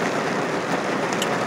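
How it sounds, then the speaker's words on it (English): Dense, steady hiss of heavy rain pouring down, constant and enveloping with no pauses. "what is turning out to be a real downpour here at the RPRZ"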